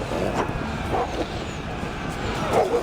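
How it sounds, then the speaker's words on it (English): Dogs bark in a medieval battle in the Thrones of Britannia strategy game, a few moderately loud barks and yips over a dense battle din. "The missiles are starting to come in, the dogs have been let loose."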